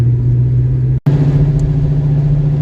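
Foxbody Mustang driving at about 25 mph with caster and camber plates swapped, a steady low engine drone and road rumble heard from inside, continuous apart from a brief dropout near one second.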